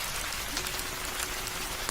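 Steady, dense rain pours on a dark rural road at night in a Bengali cartoon horror story, a continuous even hiss with no voices.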